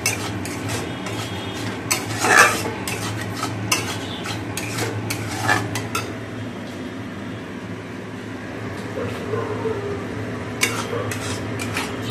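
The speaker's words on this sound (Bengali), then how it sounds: "গ্রেভিটা ফুটে এসেছে।" Gravy bubbling in a pot on the stove while a spoon stirs it, giving steady low simmering noise broken by a few sharper scrapes and clinks against the metal, close and moderately loud with no talking.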